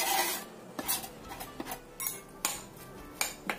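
A spoon stirring and scraping ground spice paste together with carrots and garlic in a bowl, a series of irregular scrapes and metallic clinks close by, with brief pauses between strokes.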